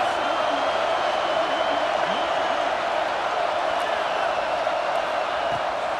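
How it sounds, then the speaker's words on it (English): Home crowd at an LSU football game roaring steadily and loudly throughout, a dense continuous wash of stadium noise with faint commentary under it. "How nice is it to have the home crowd going absolutely bananas?"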